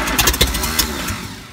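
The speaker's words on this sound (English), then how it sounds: "that's what an engine turning over sounds like" A backhoe engine turning over and catching, a short loud burst of starter cranking and rough mechanical chatter that settles into a steadier engine note, with no talk.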